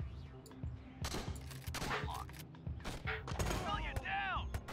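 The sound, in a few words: gunfire in the video game Door Kickers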